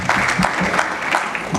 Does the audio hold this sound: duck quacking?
no